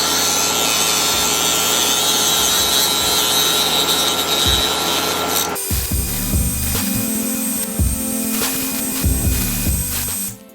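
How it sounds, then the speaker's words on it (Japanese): A rotary tool cuts the thin black plastic of a Mini 4WD VZ chassis body, first as a steady high whine with grinding, then a rougher, choppier rasp with stuttering low buzzes. The sound is loud, close and continuous, with no voices. "ちょうど今見えているこの黒い部分をカットしていきます。"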